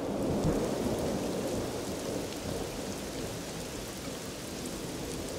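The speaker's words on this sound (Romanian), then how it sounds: "Nu se mai termină odată cu ploaia asta." Steady rain pours and a thunderstorm rumbles in a cartoon, with a loud thunder roll near the start over a constant dense wash of falling rain throughout.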